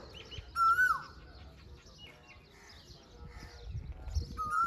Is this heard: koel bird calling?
yes